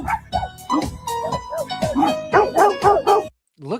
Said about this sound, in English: Look how angry the dogs are.